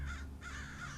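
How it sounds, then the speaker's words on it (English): Crows caw in the woods, two hoarse calls in quick succession, fairly close and clear over a low background rumble. "Crows, too?"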